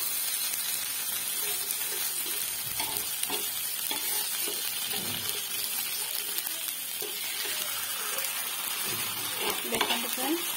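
Fish frying in mustard oil over a low flame for an Odia mustard fish fry, a steady dense sizzle throughout with faint scraping and stirring clatter near the end, no speech.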